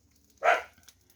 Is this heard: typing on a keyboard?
no